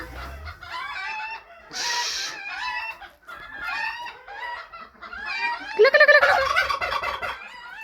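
A turkey gobbles repeatedly in rapid, warbling bursts, close and fairly loud, with other fowl clucking and calling around it.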